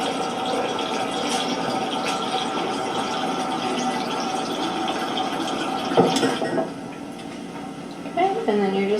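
Warm water pours steadily into a container for a salt-dough mix, a continuous liquid rush that fills most of the moment, with a brief clatter near the end and a voice starting to speak over it.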